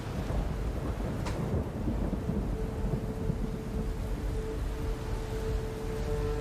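A film scene carries heavy rain and thunder, a dense constant downpour with a low rumbling roll throughout, a sharp crack near the start and a faint tonal hum later, no voices over it.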